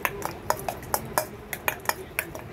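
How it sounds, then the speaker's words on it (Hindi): Vegetable pieces being stirred into a masala paste coating for gobi manchurian masala, a spoon clinking against the pot in a quick, steady series of sharp taps, close and clear with no talking. "ऐसा अच्छे से आप इसको मिक्स करिए, 1 मिनट अच्छे से मिक्स कर लो।"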